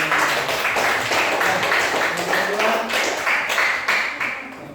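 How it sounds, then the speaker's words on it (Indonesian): Classroom students clapping together in a dense, steady round of applause, loud and close, with voices mixed in underneath. "tepuk tangan dulu"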